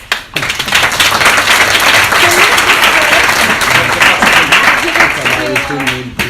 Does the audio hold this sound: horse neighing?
no